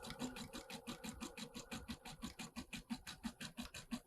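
An embroidery sewing machine runs a dense satin stitch around an appliqué edge, producing a rapid, even rattle of needle strikes close by with no talking.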